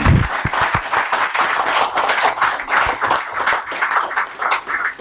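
Audience applause at a talk on the restoration of the Bateshwar temple group, with dense, steady clapping from a crowd filling the clip at even strength, sharp individual claps poking out near the start.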